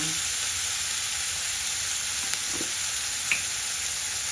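Bamboo shoots and egg stir-fry in a pan with a loud, continuous close sizzle, broken by a few brief scrapes and clinks of stirring, no voices.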